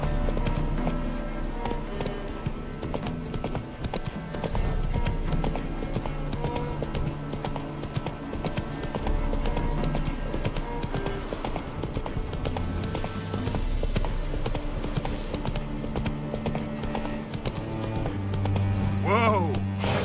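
Roach the horse galloping in The Witcher 3 video game, rapid rhythmic clip-clop hoofbeats running throughout, loud and close, over game music, with a brief voice near the end.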